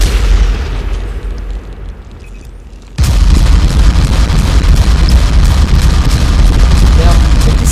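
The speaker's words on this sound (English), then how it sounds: "you're hearing a succession of explosions" MASC weapon explosions hitting an alien structure in the Natural Selection 2 game: quieter rumbling gives way at about three seconds to a loud, sustained succession of booming blasts and bursts.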